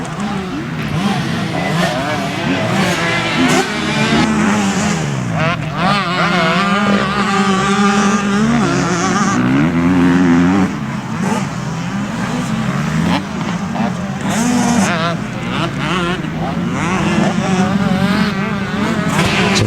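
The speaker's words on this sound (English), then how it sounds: "And should mention that Foligno, the 198 rider, on a super mini bike, racing against some full-size bikes here." Motocross bikes racing on a dirt track at a speedpark, a super mini among full-size bikes: continuous loud engine whine with rising and falling revs as machines pass and accelerate, several engines overlapping, no talk.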